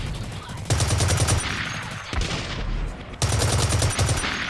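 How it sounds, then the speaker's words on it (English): AK470 automatic rifle fire in the video game Blacklight Retribution on the Heavy Metal map, with loud close bursts of rapid shots broken by short pauses and a softer stretch in between. "Headshot, what a shot."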